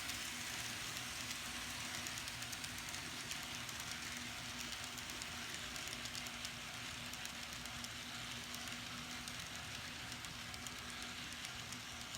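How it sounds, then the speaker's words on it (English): A steady, continuous rolling rumble with a faint clatter of an N scale Kato SD40-2 model locomotive running along track, unbroken for the whole stretch, with no voices. "now it's time to run some trains"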